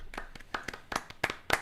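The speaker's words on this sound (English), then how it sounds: "Another round of applause" Scattered handclaps from a small group cheering the California Guitar Trio at their 30th anniversary livestream with Tony Levin; sparse, uneven claps over about two seconds, fairly close.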